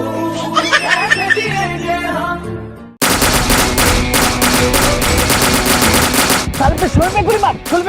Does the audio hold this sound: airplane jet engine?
no